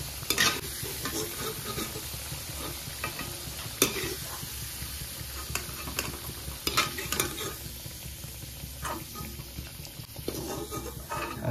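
Potato pieces fry in hot oil in a pan, a continuous soft sizzle broken by repeated scraping and clattering as a spatula stirs them, close and moderately quiet with no talking.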